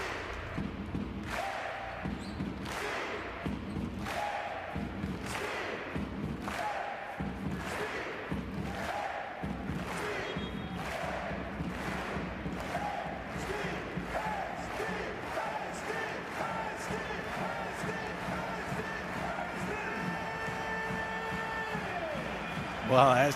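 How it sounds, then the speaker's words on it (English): A basketball arena crowd at a FIBA EuroBasket 2025 qualifier between Estonia and Poland performs the thunderclap chant, with rhythmic booming claps and shouts that steadily speed up, while a commentator talks over them. "As the thunderclap rings around the arena."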